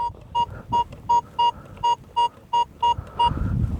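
Metal detector sweeping a garden plot gives a run of ten short, evenly spaced steady beeps, clear and close, over faint rustling and handling noise.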